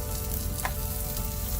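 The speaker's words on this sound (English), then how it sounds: "So on the pan I will be sauteing some mushrooms." Mushrooms sauteing in a hot pan give a steady, close sizzle with a brief brighter crackle partway through, and no one speaks.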